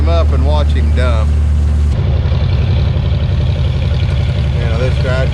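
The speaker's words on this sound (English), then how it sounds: "this tractor is going to pull up underneath that auger right there" An antique tractor engine at a vintage farm show idles and chugs with a steady low throb as it pulls up under a grain auger, loud and close, while people talk over it.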